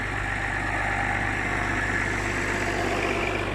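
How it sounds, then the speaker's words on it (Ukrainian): A T-74 diesel tractor engine idles while warming up, with a low, even rumble and chugging throb that never changes, close by and without voices. "поки там ще трактор прогрівається"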